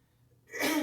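A deep, sharp sniff through the nose during yoga breathing, a breathy rush of air arriving after a moment of near silence, close and fairly soft.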